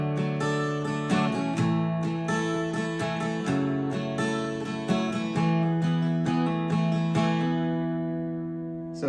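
Acoustic guitar plays a song's interlude, a steady run of picked and strummed chords ringing clearly and close, fading slightly toward the end.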